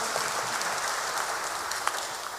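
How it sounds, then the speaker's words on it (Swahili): A church congregation claps for the children after a song, an even wash of many hands applauding throughout without a break. "Tuwapigie makofi watoto."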